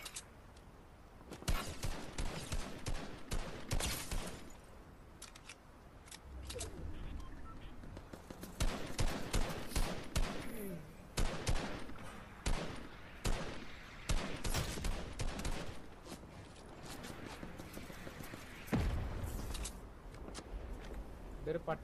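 Rapid bursts of gunfire from the video game Fortnite Chapter 2 on PS4, loud and repeated in clusters throughout, with someone talking over much of it.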